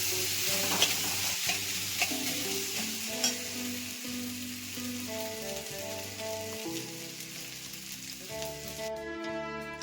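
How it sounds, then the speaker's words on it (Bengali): Basanti pulao being stirred in a pan, steady sizzling and frying with soft scraping of the rice, close and fairly quiet, continuing without pause and with no talk. "এই যে একটু নাড়াচাড়া করে নিলাম হালকা হাতে একটু নাড়াচাড়া করে নিলাম"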